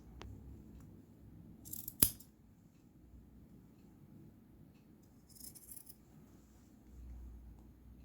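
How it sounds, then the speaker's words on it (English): Scissors make a couple of quick, crisp snips through excess karate uniform fabric. They are close and quiet, with soft rustling of the cloth between cuts. "it's considered best practice to cut off the excess once you're done with that"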